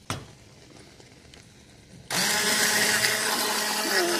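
A Smart Stick hand blender switches on partway through to froth a lumpy Optavia fueling mix with potatoes, a loud steady motor whir that holds to the end after a quiet lead-in with a few faint handling clicks.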